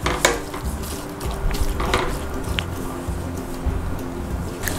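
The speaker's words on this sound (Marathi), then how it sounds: "आपण ही भाजी आता चाळून घेऊया।" Methi bhaji, fenugreek greens, being stirred in a pan over a low flame: steady scraping and soft shuffling with faint sizzling, continuous and close, several clicks of the spoon against the pan.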